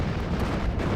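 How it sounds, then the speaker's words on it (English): Mortar fire in the Steel Division: Normandy 44 wargame, a dense rumbling barrage of booms and blasts filling a single loud second with no talk. "here come my mortars again"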